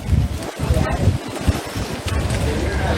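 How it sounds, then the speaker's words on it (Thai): Strong gusts buffet the microphone at a riverside pier, producing loud, uneven wind roar and thumps. Faint voices can be heard in the background. "ลมแรงมากเลย"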